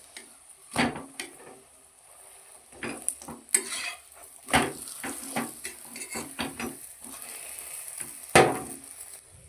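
Paratha frying crisp in oil in a pan, a steady low sizzle broken by sharp spatula scrapes and metallic clanks against the pan, close and fairly loud at moments, with no voices.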